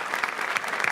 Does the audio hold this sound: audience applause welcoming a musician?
yes